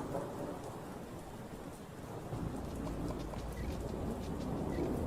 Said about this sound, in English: we can turn off the rain now because there's no rain game